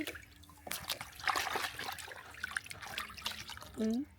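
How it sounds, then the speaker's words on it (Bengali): Water runs and trickles over a cleaned whole pomfret fish as it is rinsed, with uneven splashing and dripping close by and a brief voice near the end. "পরিষ্কার হয়ে গেছে এখন আমি ভালো করে ধুয়ে নিচ্ছি"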